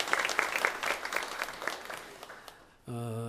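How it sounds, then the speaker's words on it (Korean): A church congregation claps in welcome for a newly arrived evangelist, a dense round of applause that slowly thins over about three seconds before a steady tone cuts in at the end. "자, 경례 박수 쳐주세요"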